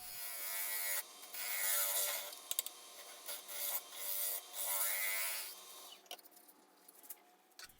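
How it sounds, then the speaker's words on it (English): A negative rake scraper cutting the inside of a Michigan sassafras winged bowl spinning on a woodturning lathe, making a steady raspy scraping hum in several long passes with short pauses, close up, with no talking, tapering off near the end. "I got the negative rake scraper out. Hopefully don't take too much material off."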